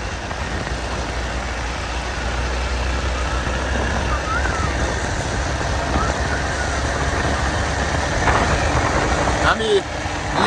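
A motorcycle engine drones steadily during a ride on a rural road toward Leguwa bazaar in Bhojpur, recorded from the pillion seat, with constant wind rush and road noise throughout.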